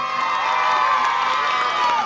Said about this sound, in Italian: il professor Pasquale Lucagli, facciamo un applauso.